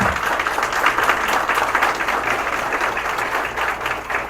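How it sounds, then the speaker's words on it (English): An audience at a PARC candidate forum gives a round of applause; continuous, fairly loud clapping from a roomful of people holds steady, with a low hum beneath it. "So how about giving them a round of applause?"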